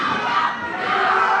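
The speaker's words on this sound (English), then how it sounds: "This crowd's going crazy." A wrestling crowd at an ACW live event roars and shouts wildly, a dense, loud wall of cheering and yelling that swells and holds for the whole moment.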